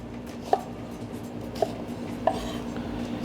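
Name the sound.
rough chopping leeks with a knife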